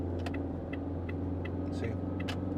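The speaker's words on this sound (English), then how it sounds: "You can see the CVT really trying hard and the little engine pushing as hard as it can" Steady low drone of a 2023 Chevrolet Groove's small engine straining through its CVT at highway speed, a constant hum with faint clicks and cabin noise over it.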